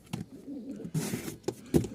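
Pigeons being handed over for delivery coo in short, throaty bursts close by, several separate calls with bits of handling noise between them and no talking.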